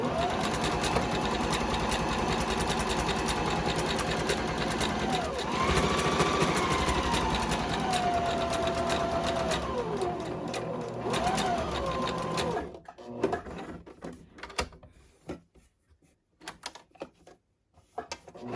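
A sewing machine stitches a boho tote bag, running in one continuous, fast mechanical whir for about twelve seconds before stopping, leaving quieter scattered handling noises.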